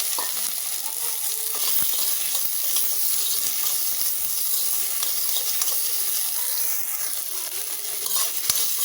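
Onions and tomatoes sauté in a pan for dry fish kulambu, giving a steady, close frying sizzle with occasional stirring scrapes and clinks that run unbroken throughout, with no talking.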